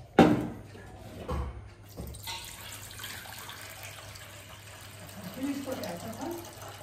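Hot water runs from a tap in a home, a soft steady stream following a few knocks and clunks at the start, with a person speaking briefly over it.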